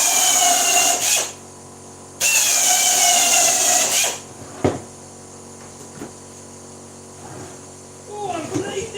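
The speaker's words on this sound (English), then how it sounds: "There's a compressor." A compressor runs in two loud, sustained bursts of hissing mechanical noise, separated by a pause. Sharp knocks and clicks follow in the quieter stretch afterward.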